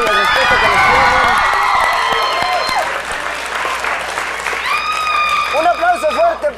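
A crowd at a concert applauds and cheers loudly and steadily while a host's voice carries over the noise, with shouts rising near the end.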